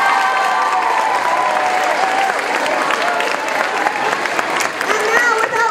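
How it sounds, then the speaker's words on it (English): A school talent show crowd applauds loudly and continuously, with scattered cheers and voices mixed into the clapping. "Give yourselves a round of applause."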